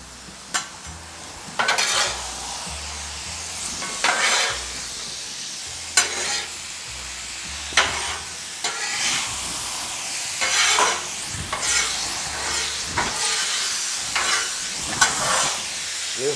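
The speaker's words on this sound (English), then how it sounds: "Sizzling everywhere." Shrimp, steak, rice and vegetables seasoned with salt, pepper and garlic sizzle steadily on a Blackstone griddle, broken by repeated scraping and tapping of a metal spatula as the food is stirred and moved around.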